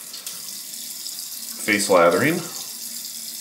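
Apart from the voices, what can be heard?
warm water running from a tap for shaving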